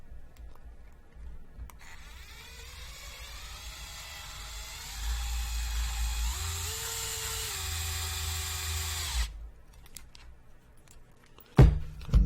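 Power driver whirring steadily as it tightens shoulder bolts on a PR Racing Type-R EVO RC buggy kit, a close continuous motor whine that rises in load and pitch before stopping, followed by a few small clicks.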